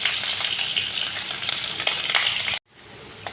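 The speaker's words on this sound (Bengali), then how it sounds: "এখন পেঁয়াজ কুচি, রসুন কুচি আর 2টা শুকনা লঙ্কা দিয়া খুব ভালো করে ভাজি দিই।" Chopped onion, garlic and two dried red chilies sizzle steadily in hot mustard oil, a loud, even frying hiss that cuts off abruptly near the end.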